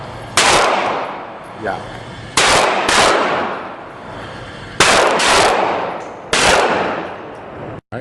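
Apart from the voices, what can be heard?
gunshots from a handgun at a shooting range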